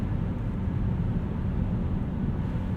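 Inside a 2016 Hyundai Veloster Rally Edition with a six-speed manual, the engine gives a steady, low droning rumble under road and wind noise, constant in loudness with no one speaking.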